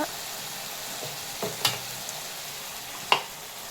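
Chicken sautéing in a pan with turmeric powder for a chicken gravy, a soft steady sizzle with a few sharp spoon clinks against the pan, close by.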